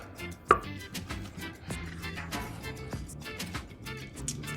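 A knife chops through crispy Thai-style fried eggs on a board, with one sharp knock early on and then softer, irregular cuts and crunches at close range.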